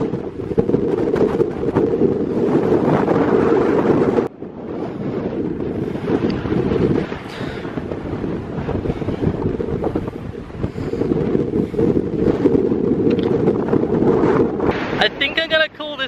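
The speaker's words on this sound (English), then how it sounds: "I think I'm gonna call this the windy stretch." Strong wind buffets the microphone on a coastal walk along the Kent shore between Gravesend and Cliffe, a loud continuous low roar that gusts and dips, with faint water and boat sounds beneath.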